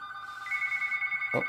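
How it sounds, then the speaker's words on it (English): A telephone bell rings indoors with a bright, sustained electronic trill lasting about a second, fairly clear and close, followed by a short thud at the end. "that's the phone ringing, but I don't answer the phone here"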